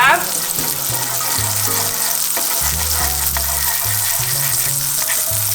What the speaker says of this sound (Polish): Jak możecie zauważyć, patelnia jest już ciepła. Masło nam się ładnie rozpuszcza.